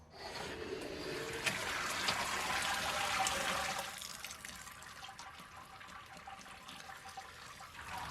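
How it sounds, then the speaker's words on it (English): Wort trickles and drips from the mash tun after the sparge on a home-brewing day for an American IPA, a steady watery splash that is fuller at first, then thins to a quieter trickle, with no talk. "I'm going to let this one, of course, drip out for a while until it stops dripping."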